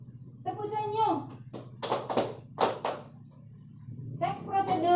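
A classroom clapping chant: a few sharp, close hand claps fall in short bursts between children's chanted voices, quick and rhythmic over a low steady hum.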